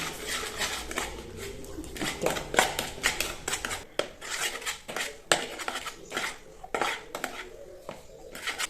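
Yogurt, oil and salt for a chicken marinade being stirred in a bowl, giving irregular close scraping and clinking of a utensil against the dish, fairly loud and steady with no talking.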